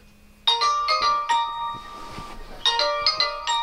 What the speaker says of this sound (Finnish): Sulla soi puhelin.